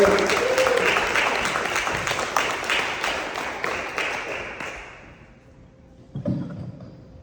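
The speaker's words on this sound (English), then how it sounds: "Round of applause, Westfield, for Brandon Bros." A comedy club crowd at a brewery claps and cheers for a comedian taking the stage, loud at first and gradually fading, followed by a couple of thumps from the stage.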